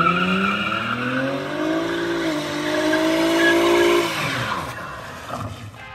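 An automatic front-wheel-drive car with traction control off and the e-brake fully up does a burnout, its engine revving hard with rising and falling harmonic tones and a loud squealing tire screech that fades near the end.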